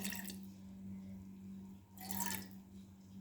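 A small amount of water goes into a pan on a gas stove for sugar syrup, heard as two short faint splashing bursts over a steady low hum.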